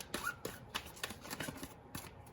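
A deck of oracle cards is shuffled close to the microphone, giving quick soft riffling flicks and taps in a short burst with no talking.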